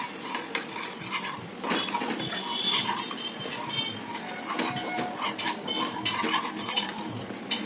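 Khichdi and water stirred in a pot, giving a steady run of scraping and clinking utensil-on-metal sounds close by, with no talk.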